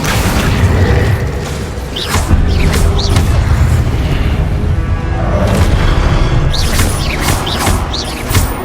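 Confringo blasting spells in the Hogwarts Legacy video game: loud, booming explosive bursts over a dense, rumbling game soundscape, with bright crackling impacts recurring throughout.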